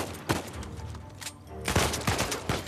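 Rapid bursts of AK rifle gunfire from the video game Uncharted 4, loud and close, with sharp repeated shots clustered at the start and again near the end over a dense background of combat noise.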